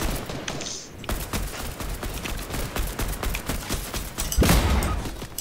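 Rapid bursts of Fortnite Season 7 gunfire crackle throughout, a dense volley of sharp shots with a heavier thump near the end, loud and close in the game mix.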